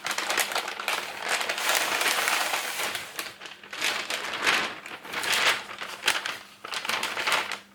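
A Simon Says Stamp January 2022 Warmest Wishes card kit box is being unpacked up close, with continuous crinkling and rustling of packaging in bursts and short pauses. No one speaks over it.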